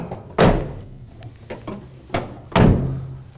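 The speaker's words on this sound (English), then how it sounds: "So I'll shut up the doors." Doors on a new 2018 lifted Quigley 4x4 GMC conversion van are shut with two heavy, close thunks, with a few lighter clicks and taps between them.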